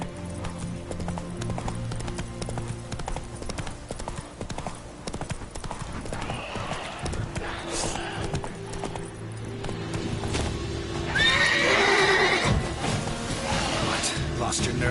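Roach the horse clip-clops at a gallop in The Witcher 3, hoofbeats rapid and close, with a whinny rising near the end over a steady game soundscape.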